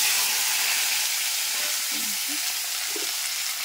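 Hot oil sizzling in a frying pan, a loud, steady hiss filling the whole stretch with a few faint bubbling pops, no voices.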